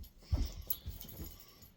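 A dog gives a few soft, breathy whimpers and whines up close, brief bursts over a quiet room with no talking.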